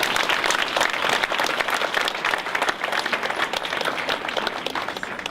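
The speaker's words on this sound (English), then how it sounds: "let's give everyone a round of applause." Sustained audience applause fills the room at an awards banquet for an essay contest, dense clapping from many hands holding steady and loud throughout with no talk over it.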